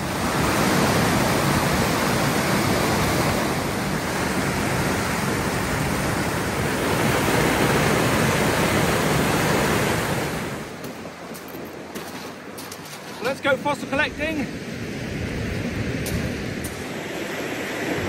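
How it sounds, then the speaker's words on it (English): Stormy sea waves crash against the Cob harbour wall, a loud continuous roar of surf that drops away partway through before a person speaks. "you can see the stormy weather here with the waves crashing in along the Cob"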